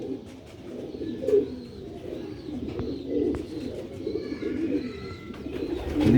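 Rooftop pigeons coo in soft, overlapping low murmurs, with a few higher chirps from other birds faintly in the background.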